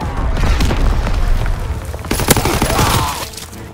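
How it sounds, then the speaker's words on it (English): Mortar rounds explode in Call of Duty WWII on the Shipment 1944 map. The loud, dense rumble of blasts and battle noise runs throughout, with a sharper crack near the middle. "Sending mortar rounds."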